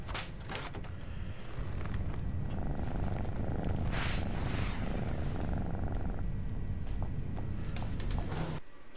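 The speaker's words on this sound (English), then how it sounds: "Such a loud cat." A loud, steady cat purr rumbles continuously in a Catwoman video game scene, a close, coarse throbbing drone lasting throughout before cutting off near the end.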